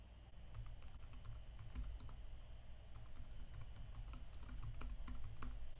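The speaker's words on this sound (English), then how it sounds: "typing gradle space deploy content and then press enter" A command for a Gradle content deployment is typed on a computer keyboard, a rapid, steady run of crisp key clicks close to the microphone, alone without any voices.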